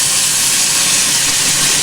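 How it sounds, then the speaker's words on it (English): Oyster mushrooms sizzle in melted butter in a pan, a steady dense hiss with crackling spatter running loud and close throughout, with no talk. "just hear the beautiful sizzling sound"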